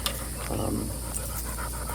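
A dog that overheats pants steadily and close by, with quick rhythmic breaths over a constant background hum outdoors near a swamp.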